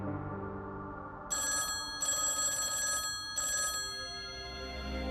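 Telephone ringing in a Hindi TV drama household: three bursts of a bright electronic ring, each about half a second to a second long with short gaps, over a low steady background hum.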